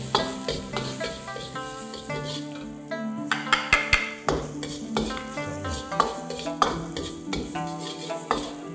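Ginger, scallion whites and shallot stir-fried in a little oil, with loud continuous sizzling and repeated clattering scrapes of a spatula against the pan.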